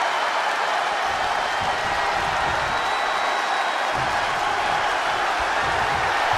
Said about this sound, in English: And no, Bianca, the crowd are not pleased to see you.